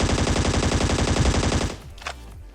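Rapid automatic gunfire rattles in one sustained, loud burst while enemies are finished off in Scarfall 2.0, a mobile battle royale game, then cuts off abruptly with a brief trailing clatter.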